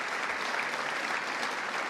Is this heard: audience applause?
yes